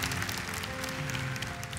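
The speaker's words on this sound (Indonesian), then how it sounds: "Tepuk tangan bagi Tuhan." A church congregation applauds during a sermon, a continuous wash of clapping at moderate level over a low steady hum in the room.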